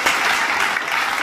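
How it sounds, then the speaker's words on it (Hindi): Audience at a foundation-stone ceremony for a milk powder plant in Hotwar, Ranchi, breaking into dense, continuous applause, a brief loud burst of many hands clapping at once. "जोरदार तालियां हम सबके"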